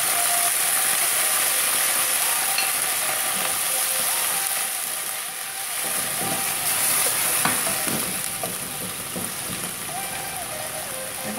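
Hot water is poured into a pan of frying fish, bringing a loud, sustained hiss and sizzle that eases slightly midway and continues with bubbling and crackle.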